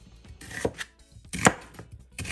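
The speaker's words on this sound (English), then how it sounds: "I'm just gonna finish chopping this up" Yellow pepper and vegetables are chopped with a knife on a board, several sharp irregular thuds and crunchy cuts close by, with no talking.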